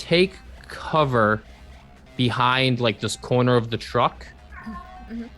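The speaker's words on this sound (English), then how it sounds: "That was our cat." Juno, a pet cat, meows with a couple of drawn-out, rising and falling calls close by in a room while people talk over and between them.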